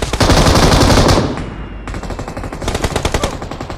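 Sustained M249 machine gun bursts in PUBG Mobile, loud rapid automatic fire for about a second, then a brief lull and another dense rattling volley.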